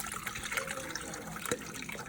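Water poured into a strainer while milk is washed out for Jamaican cooking, a steady close splashing trickle with a brief sharper splash near the end, fairly quiet, no talking.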